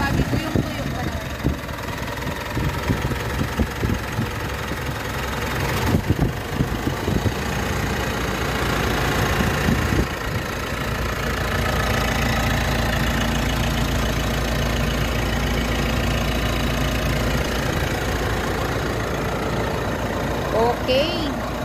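A car engine idling steadily up close, a constant low rumble with a few faint knocks and handling noises early on.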